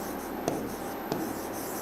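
Pen strokes on paper as an English grammar sentence is written out, a steady soft scratching with a couple of small taps, close and alone without talk.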